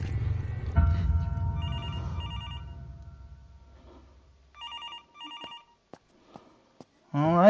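A telephone rings in the horror game Infliction, two paired electronic trill bursts repeating after a fading low rumble, clear and fairly close, followed by clicks and a brief voice at the end.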